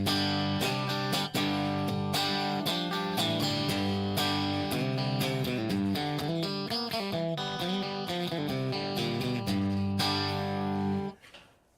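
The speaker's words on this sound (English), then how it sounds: "And go to a louder clean sound." Clean, louder electric guitar amp tone playing steady strummed and picked chords, full and sustained with bright harmonics, alone without talk, ending abruptly near the close.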